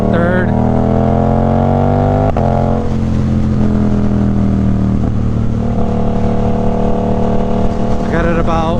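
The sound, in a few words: Suzuki GSX-8R motorcycle with Toce exhaust revving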